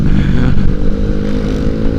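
Honda Vario 125 scooter running low on oil, its engine held at a steady, eased-off throttle, a close and continuous low drone with a faint mechanical clatter and no rise in revs.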